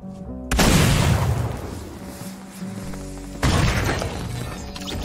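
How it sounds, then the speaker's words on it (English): Grenade launcher explosions in a video game: a heavy booming blast with a crashing, shattering tail, then a second loud explosion about three seconds later, close and alone. "I've got a grenade launcher here you can use"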